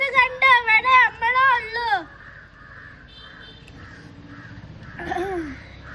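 A crow caws repeatedly in a quick, loud series of harsh calls close by, then falls silent while faint voices and background murmur continue.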